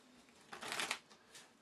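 A deck of cards riffled once, a quick papery flutter lasting under a second, with a softer brush of cards afterward, close and fairly quiet.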